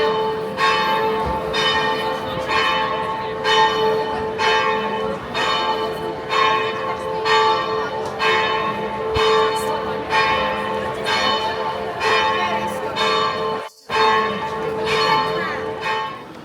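Cathedral bells ring from the bell tower in Split, Croatia, with steady repeated strikes and a sustained ringing tone over a busy outdoor crowd. Faint voices of tourists are mixed in.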